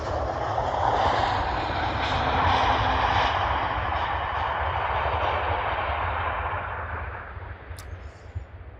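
An Airbus A321neo airliner landing at Brussels Airport on runway 25L in windy conditions gives a loud, steady jet roar that holds close for most of the stretch, then thins out and fades toward the end.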